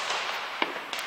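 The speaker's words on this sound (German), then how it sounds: "Kubischer Kanonenschlag von Weko" A single sharp bang from a Weco cube-shaped firecracker cracks out amid a hissy, noisy background, followed by a smaller pop shortly after.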